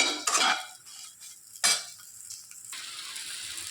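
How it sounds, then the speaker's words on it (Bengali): Soybean chunks frying in oil are stirred in a pan, with two sharp scraping bursts of the spoon followed by a softer, continuous sizzle that grows steadier toward the end. "তো এর মধ্যেই আমি এইভাবেই ভেজে নেব।"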